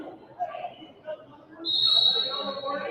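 Referee's whistle at a boys varsity high school basketball game, one sharp shrill blast arriving midway through, over gym crowd noise and a commentator speaking.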